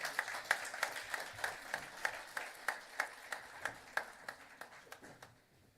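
Applause at a national convention of insolvency professionals, a fairly faint, thin audience clapping in a loose near-regular rhythm, individual claps distinct, tapering away to quiet in the last second.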